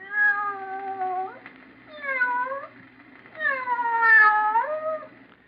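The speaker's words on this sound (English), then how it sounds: "Just a sound effect. But in your imagination, didn't you picture a cat meowing?" A cat meowing sound effect from an old-time radio drama: three drawn-out, clear meows in a row, the last one longest, close and distinct with no talk over them.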